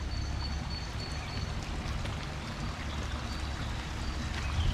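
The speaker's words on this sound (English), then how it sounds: "What the cute little creek." Small creek flowing through a botanical garden in Leuven, a steady close rush of burbling water that holds level throughout with no pauses.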